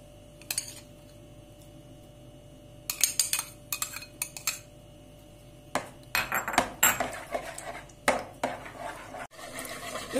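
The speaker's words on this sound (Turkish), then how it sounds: "Öncelikle yoğurdun kıvamını açıyoruz." A spoonful of yogurt is whisked with warm water in a bowl, giving irregular metallic clinks and scrapes, sparse at first and then busier and more rapid, with no talking.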